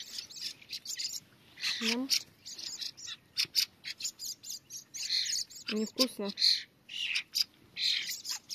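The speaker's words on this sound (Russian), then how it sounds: "Маленький певчий дрозд. Вот он еще просит кушать." A young song thrush begs for food with rapid, repeated high chirps and tweets in bursts, close and clear. Someone speaks softly between the calls.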